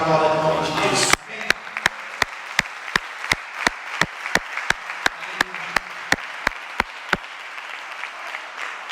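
A congregation claps at an Assembly of God church service. A voice is heard briefly, then loud single claps follow one another at a steady, even rhythm for several seconds before stopping.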